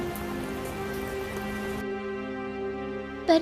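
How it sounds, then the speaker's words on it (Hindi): Heavy cartoon rain pours down as a steady, dense hiss. It suddenly thins and cuts to quieter tones partway through, and a brief sharp burst comes near the end, with no voices. "बारिश भी तेज थी"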